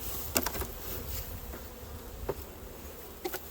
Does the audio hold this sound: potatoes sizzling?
no